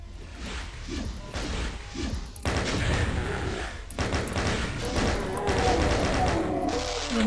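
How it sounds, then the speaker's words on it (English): Chaingun in the video game Doom, fast rapid-fire bursts, loud and close, with heavy blasts and crashes between volleys in a dense continuous battle. "Chain gun in this one."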